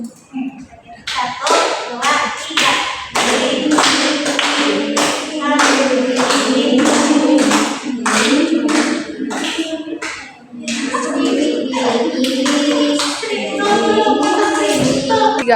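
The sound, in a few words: group clapping hands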